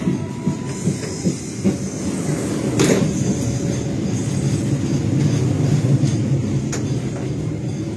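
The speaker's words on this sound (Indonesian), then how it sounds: "Beberapa saat lagi kereta api Tegal Bahari masuk stasiun" The Tegal Bahari train rumbles loudly nearby as it arrives at Jatinegara station, with rhythmic clatter and occasional metallic squeals, a steady rolling roar that builds slightly.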